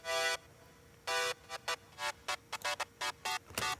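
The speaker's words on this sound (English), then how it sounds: "Another layer I have is just a square wave, just a simple one." A plain square wave synth layer for a 90s house track plays short bright stabs in an uneven, syncopated rhythm. Clean and fairly quiet, with no voices.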